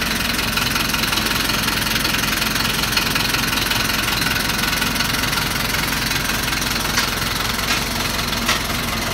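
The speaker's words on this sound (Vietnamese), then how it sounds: "Đấy thì đấy là tiếng động cơ của xe này" The diesel engine of a HOWO 8.45-tonne twin-axle dump truck runs steadily at idle, producing a continuous, close, rough rumble with a faint knocking texture and no talk.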